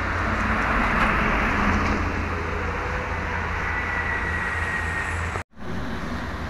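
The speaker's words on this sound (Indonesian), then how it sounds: "Gunung Harta Jetbus 3 SHD Mercedes OC 500 RF dan Sindoro Satria Mas Premium Jetbus 3 SHD juga" Jetbus 3 SHD Mercedes OC 500 RF coaches pass close by at speed on a highway, making a loud, broad roar of engine and tyre noise that holds steady. The sound briefly cuts out near the end, and no voices are heard.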